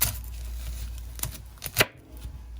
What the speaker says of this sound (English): As we chop our onion, we want to cut it in half.